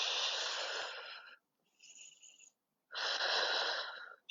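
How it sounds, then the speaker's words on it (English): During a core exercise, someone breathes in through the nose and out in three close, strained, wheezy breaths: a long one, a fainter, shorter one after a brief gap, then another long one. "Inhale through the nose. Exhale, curl it up. 5 breaths."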